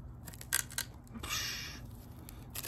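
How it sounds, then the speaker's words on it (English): A sharp field knife blade push-cutting through rope, a few short crisp snipping bursts followed by a longer drawn fibrous rasp, close and fairly quiet. "we're gonna take it to the rope here and see, try to do a push cut first"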